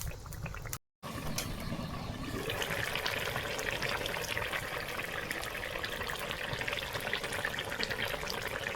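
Okra curry simmers in a covered pan, a steady soft bubbling and sizzling hiss that runs on evenly after a brief silent gap near the start.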